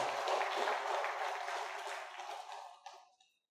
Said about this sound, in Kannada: ಅವರಿಗೆ ನಾವು ಮತ್ತೊಮ್ಮೆ ಚಪ್ಪಾಳೆ ಹೊಡೆಯೋದರ ಮೂಲಕ ಅಭಿನಂದನೆಗಳನ್ನು ಸಲ್ಲಿಸ್ತೇವೆ